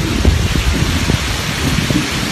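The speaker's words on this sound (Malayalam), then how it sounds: "സൗണ്ടുള്ള മഴയാണ്" Loud, dense rain pours steadily onto leaves in a plantation under a canopy, a continuous close hiss with scattered heavier drops.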